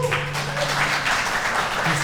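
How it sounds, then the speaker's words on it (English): An audience claps continuously in a dense, even patter, with a low hum and a few voices underneath. "So another round of applause for Jonathan."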